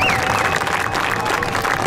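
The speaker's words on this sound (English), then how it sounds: "one more round of applause for these guys" Crowd applause at a motorcycle raceway, a broad steady wash of clapping and light cheering that holds evenly for the whole stretch, with a faint thin whistle near the start.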